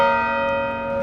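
Church bells ring on Park Avenue in Winter Park, Florida, a loud, sustained chime hanging in the air without talk.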